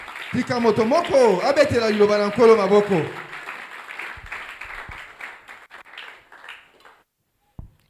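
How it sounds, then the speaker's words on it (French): A church congregation at a Sunday service in March 2024 acclaims and applauds the word of the Lord, with loud cheering voices for about three seconds before the applause and murmuring fade into a quiet hall. "Que quelqu'un acclame la parole du Seigneur."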